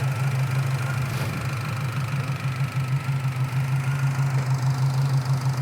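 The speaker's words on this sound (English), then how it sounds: "Nice idle, and as I mentioned, this is the numbers matching big block engine" A numbers-matching 396 big block V8 in a 1972 Chevy Camaro SS idling steadily nearby, a deep low rumble with a slight lumpy pulse throughout.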